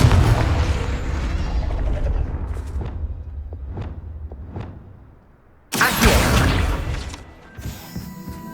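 A Confringo blasting curse in the video game Hogwarts Legacy, with a few faint magical pings and whooshes followed by a sudden loud explosive burst that rumbles and fades.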